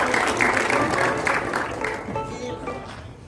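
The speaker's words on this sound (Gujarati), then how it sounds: "જોરદાર તાળીઓથી બિરદાવો" An audience at a retirement and birthday celebration for a government clerk breaks into dense, sustained applause that slowly thins toward the end, with some voices mixed in.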